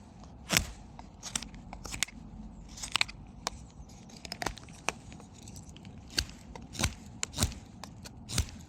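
A knife whittles wood while carving a small sheep figure, making sharp, irregular scraping cuts and little crisp snaps, close and fairly quiet, scattered across the stretch with short pauses between strokes.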